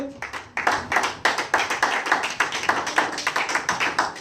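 A church congregation at a Sunday service claps in a steady, lively rhythm, the loud claps coming in quick regular bursts that fill the hall with no one speaking over them.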